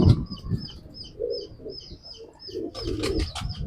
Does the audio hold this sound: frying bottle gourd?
no